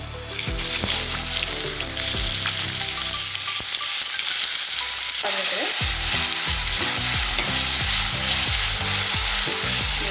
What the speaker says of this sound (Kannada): ಈ ಥರ ಫ್ರೈ ಆಗ್ತಾ ಇದ್ರೆ ಎಲ್ಲನೂ ಫ್ರೈ ಮಾಡ್ಕೋಬೇಕ್ರೆ